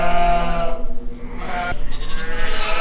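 Ewes bleat loudly during lambing season on a farm, two long, wavering, close-up calls in quick succession with barely a pause between them.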